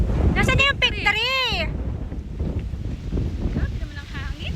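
Strong wind on a mountain hike roars and buffets the microphone throughout, with a high whistling or squealing voice near the start and people talking underneath.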